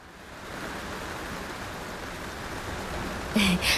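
Heavy rain pours in a dense, steady hiss throughout, with a brief brighter tonal sound breaking in near the end.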